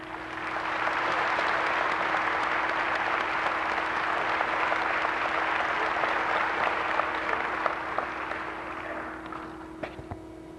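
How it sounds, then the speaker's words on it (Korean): Warm applause at a 1996 Korean world mission conference as a missionary from Gabon comes forward: thick clapping builds quickly and holds steady over a constant low hum, tapering off in the final seconds. "나오실 때 뜨거운 박수로 환영해 주시기를 바랍니다."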